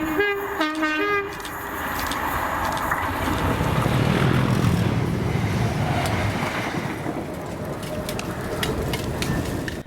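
A Scotrail Class 320 electric train sounds its horn in short repeated blasts, then rumbles past loudly and steadily before fading slightly, heard outdoors near Kilwinning with no voices.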